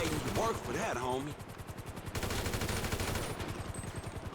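Gunfire in the video game GTA 5 crackles in rapid automatic bursts with a short spoken exclamation at the start, then continues as a dense rattling stream, loud and close, under the game's background noise.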